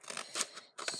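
Quick crisp snips of scissors slicing through a folded sheet of paper along the fold, a few short cutting strokes with a brief pause before another burst, close and fairly quiet.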